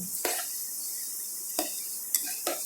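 Moong dal being stirred while it roasts in a hot pan with the induction heat turned off, a soft sizzling hiss broken by a few scraping strokes of a spoon against the metal.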